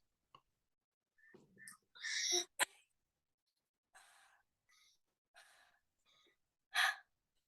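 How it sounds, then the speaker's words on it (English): Heavy breathy 'ha' exhalations practised in a lesson on the Arabic letter ha, several short airy puffs of breath separated by silences, close and fairly quiet. "So that ha is heavy breathing"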